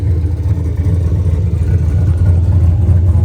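A loud, deep turbocharged LS V8 engine in a 1993 Ford Mustang Foxbody rumbles close by, throaty and steady, with slight surges in intensity as it is revved.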